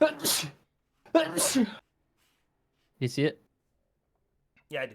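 A sneeze breaks out during a tabletop Dungeons & Dragons session, one sharp burst among several short bursts of people talking nearby.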